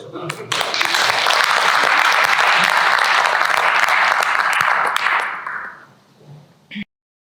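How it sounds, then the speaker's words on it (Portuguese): A crowd applauds loudly and continuously for about five seconds, then the clapping thins and dies away, followed by a brief noise before silence. "E vamos dar umas palmas a eles"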